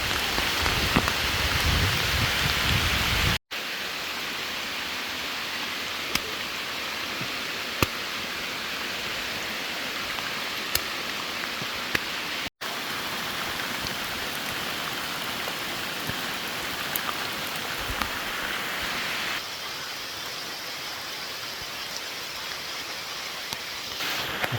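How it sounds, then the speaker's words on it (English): Heavy rain pours steadily in a Panama rainforest, a dense, continuous hiss of drops hitting leaves and surfaces, loud and close throughout with no voices. "in the rain."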